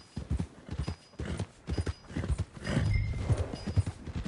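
Horse hooves clip-clop steadily through the game Red Dead Redemption 2, a moderately loud rhythmic plodding that continues throughout alongside other game sounds.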